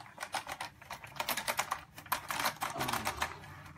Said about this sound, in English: Lovely mechanical switches.